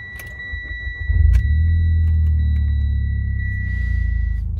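A car engine cranks and catches about a second in, then settles into a steady, close, low idle rumble, with a faint electronic tone running through; no speech.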